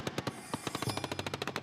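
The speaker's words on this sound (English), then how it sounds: "The tank's machine guns start firing" Rapid bursts of tank machine-gun fire during a militia assault in a desert town, loud, sharp and close, with the shots coming in a quick, steady rhythm of about a dozen reports.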